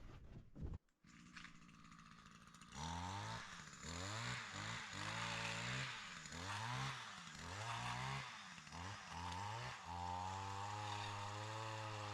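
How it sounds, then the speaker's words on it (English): Pole-mounted tree trimming saw cutting limbs high in an old cedar tree outdoors, with a buzzing engine rising and falling in repeated surges as it bites into the wood, fairly faint and distant, no talking. "By using my tree trimming saw that I picked up over the summer, I'm reaching up as high as I possibly can in this old cedar tree"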